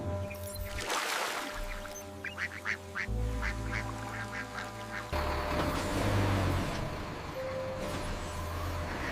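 Ducks at a duck farm quack in a quick, uneven series of calls over a steady mechanical hum and engine-like drone.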